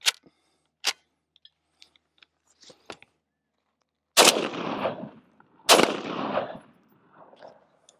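Two loud, close rifle shots from a Century 7.62 NATO conversion of an Elbonian 4956, each a sharp crack trailing into a long rumbling echo, after a few quieter clicks and mechanical ticks from handling the gun.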